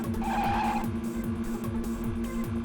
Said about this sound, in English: absolutely awful tyre screech noise, which is just a 2-second audio loop